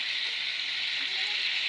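Soy sauce hits a hot frying pan with a loud, steady sizzle, a dense, continuous hiss that holds evenly from start to finish, with no voices over it.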